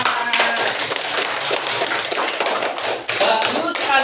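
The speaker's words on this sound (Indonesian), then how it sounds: "Ya, terima kasih, tepuk tangan." Children in an Indonesian classroom clapping after a poem reading, a brisk run of claps and taps close by, with young voices talking underneath throughout.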